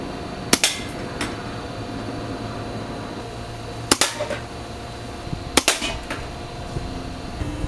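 A Hammer Valve airsoft rifle fires three sharp, loud shots spaced a few seconds apart at a target about 20 to 25 feet away, each crack followed by a brief rattle, over a quiet mechanical hum.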